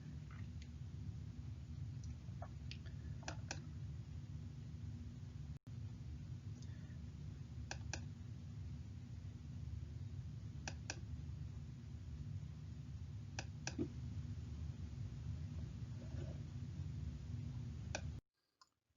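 Mouse clicks sound as sharp isolated ticks every second or two while someone steps through slides of brain anatomy, over a steady low hum of room or recording noise.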